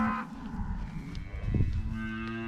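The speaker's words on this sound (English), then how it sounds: "Look at these wild cows here." Angus cows mooing on a farm, several low lowing calls that overlap and repeat, close by and loud, with no talk over them.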